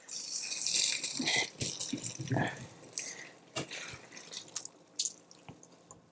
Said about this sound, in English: we're just going to drain the water.